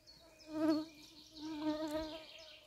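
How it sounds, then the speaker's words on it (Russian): Mosquitoes buzz close by in a spruce forest, a thin droning whine that swells and fades twice as the insects drift near, with no talk. "Комаров полно."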